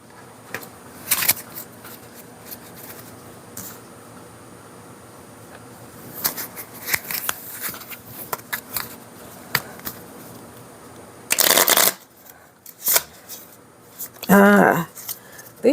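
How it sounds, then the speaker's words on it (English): Numerology cards being shuffled in several bursts of riffling and slapping, close and fairly loud, separated by quieter handling rustles; a voice speaks intermittently. "These do not want to be shuffled today"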